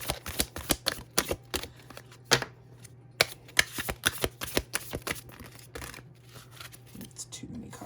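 Tarot cards being shuffled and drawn, a rapid series of crisp riffling snaps and flicks in uneven bursts, close to the microphone, with a brief pause midway.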